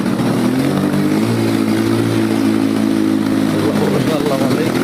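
A motorcycle pushes through deep floodwater in rain with its exhaust silencer fully submerged, the engine held at high revs in a loud, continuous, close drone that dips slightly near the end.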